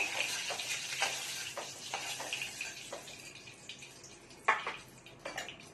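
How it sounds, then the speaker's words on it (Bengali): Oil sizzles softly in a pan while ingredients fry lightly for egg curry, a steady hiss broken by scattered clicks and scrapes of stirring, fairly faint and without talk. "বেশি লাল লাল করে ভাজবো না, একটুখানি এগুলো উঠিয়ে নেবো।"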